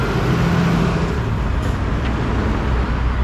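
Steady city street traffic in Porvoo, Finland, with many cars and heavier vehicles passing in a continuous broad rumble, fairly loud and close.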